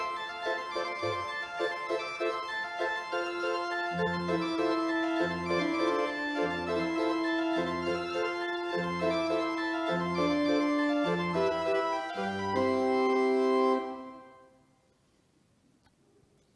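A pipe organ plays a sustained chordal passage with layered pipe tones and a pulsing bass line, loud and steady for about fourteen seconds before the sound cuts off and fades into silence.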